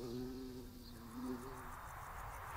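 Wild bees buzz close by in a soft, continuous drone that wavers slightly in pitch, faint and alone without any talk.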